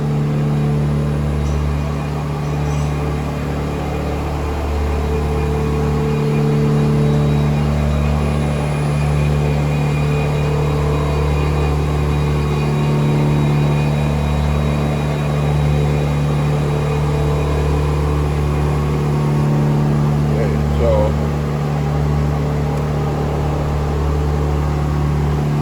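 An electric tapping arm cutting a threaded hole gives a steady, unbroken motor hum with a low whirring drone that holds for the whole stretch, close and fairly loud, with no speech.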